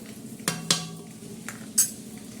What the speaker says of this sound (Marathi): छान असे हलवून परत घेऊया